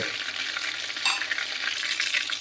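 Dried red chilies and bay leaves sizzle steadily in hot oil as a tempering for mutton Dak Bungalow curry. The frying is close and continuous, with a brief sharper crackle partway through and no voices.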